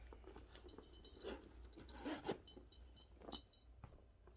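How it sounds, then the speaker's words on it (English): A small zippered pocket inside a leather Dooney & Bourke small domed satchel is worked open, giving faint, close rasping zip pulls and light scraping rubs in short uneven bursts. "It has a zipper pocket."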